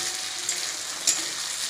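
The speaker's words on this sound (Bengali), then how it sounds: "আলু পটলগুলো লাল করে ভাজা হয়ে গেছে" Potatoes and pointed gourd fry in a pan until browned, producing a steady, moderately loud hiss of sizzling oil with one brief sharper crackle and no voices.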